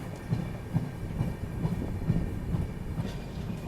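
The Dibrugarh Rajdhani Express runs along the rails with a steady rumble and a regular clickety-clack of wheels over rail joints, heard from on board.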